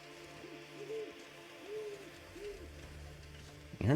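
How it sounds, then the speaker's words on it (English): Owls hoot in the snowy wilderness of the survival game The Long Dark, three soft rising calls spaced about a second apart over faint ambient wind, fairly distant and quiet. "I'm hearing lots of owls, not hearing a whole lot of wolves."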